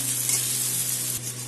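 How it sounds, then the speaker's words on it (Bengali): Onion and green chillies frying in a pan, a steady close sizzle with occasional stirring scrapes, quiet and even throughout, no voices. "পেঁয়াজ কাঁচা লঙ্কা মোটামুটি ভাজা হয়ে গেছে"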